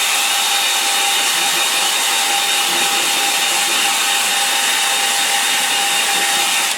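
A hair dryer blows steadily and loudly at close range as it dries a watercolour painting, a constant whooshing hiss with a whining tone that runs throughout.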